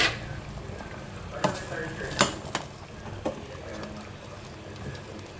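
Eggplant, string beans and okra drop into a pot for a Filipino vegetable dish, bringing a soft simmering sizzle and a few sharp clanks of utensils against the pot.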